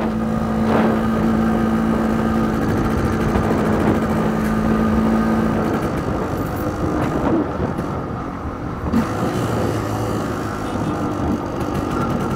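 An MZ ETZ 250 motorcycle engine runs steadily and loudly close by, with a constant drone that shifts slightly in pitch.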